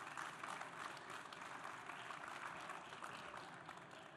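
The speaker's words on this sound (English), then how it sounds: "So round of applause for OnRamp." A conference audience at the SaaStr 2025 summit stage applauds an event sponsor, a continuous wash of clapping heard from a distance and at low level, steady for about four seconds.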